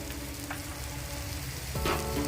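A spoonful of sour yogurt goes onto spiced oil in a pan for rohu fish curry, sizzling steadily up close. A brief stirring scrape comes near the end.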